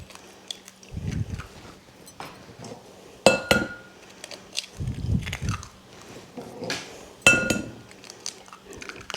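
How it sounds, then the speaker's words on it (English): Eggs are cracked two-handed against a pan edge or bowl for a breakfast casserole: sharp, close cracking taps come in separate bursts, mixed with soft shell and bowl handling noises and no talk. "We're going to crack some eggs. It depends on your pan. 6 to 8 eggs usually does the trick."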